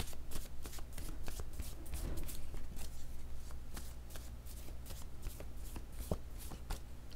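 Oracle cards being shuffled and drawn, a steady run of papery riffling and slapping card sounds that continues close up for the whole stretch, with no voice over it.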